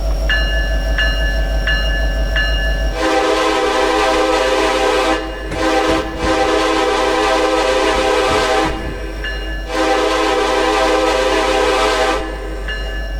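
Simulated CN heritage SD70M diesel locomotive in a train simulator game: a steady, loud engine drone with its horn sounding in long blasts, several in a row, alone without talk.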